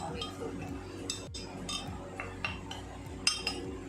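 A spoon clinks repeatedly against a mug while honey is stirred into water, a run of light, bright taps close by, with a voice talking over it.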